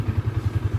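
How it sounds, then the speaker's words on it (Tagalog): A motorcycle engine idles nearby with a steady, evenly pulsing low thump, about ten beats in under a second, with no talk. "Ito po yung dating motor ni Ana"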